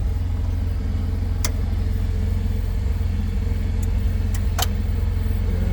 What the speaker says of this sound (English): Even heard that generator step up a little bit.